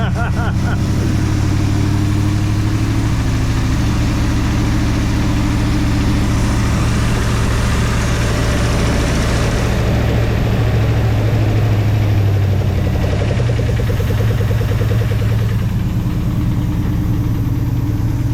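A 1966 Ford Fairlane with a 390FE V8 and 4-speed, started after sitting for years, runs with a steady, loud low rumble throughout, its idle filling the space continuously while people talk over it.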